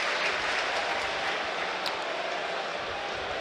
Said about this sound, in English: there's warm applause to welcome them